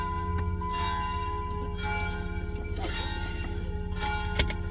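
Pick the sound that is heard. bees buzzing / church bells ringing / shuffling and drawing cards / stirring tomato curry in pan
church bells ringing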